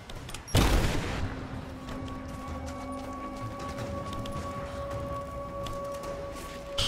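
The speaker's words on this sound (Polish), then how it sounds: "Co to za wybuch?" An explosion in the video game Rise of the Tomb Raider, one loud close boom that fades into a long rumbling tail with faint debris and a steady hum.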